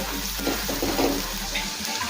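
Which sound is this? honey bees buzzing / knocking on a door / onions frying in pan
onions frying in pan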